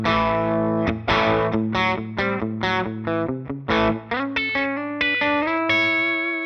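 An electric guitar on its bridge humbucker, played through a Line 6 Helix with a Vox-style edge-of-breakup amp model and a touch of compression, rings out lightly driven single notes and chords with a chorused shimmer, loud and close.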